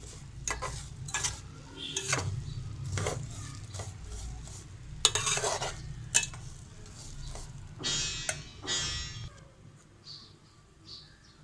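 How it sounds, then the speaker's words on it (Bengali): A mixture being stirred into vermicelli in a pan for Eid shonpapri, a soft sizzle under intermittent scraping and clinking strokes of a utensil against the pan. "এখন সেমাইয়ের মধ্যে এই মিশ্রণটা দিয়ে দেব। দিয়ে ভালোভাবে সেমাইয়ের সাথে মিশিয়ে নেব।"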